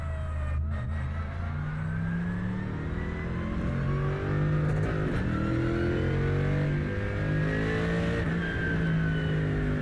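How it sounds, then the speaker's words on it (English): A race car engine in iRacing drones steadily at high revs, pitch climbing and falling as it accelerates, continuous and close throughout with no talking. "The engine, of course, is still the most predominant sound."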